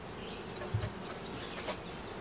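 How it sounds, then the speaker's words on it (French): Dense, steady hum of many honeybees buzzing around an open hive as frames of honey, pollen and brood are transferred, with a couple of louder bees passing close. "transférer des abeilles de plus"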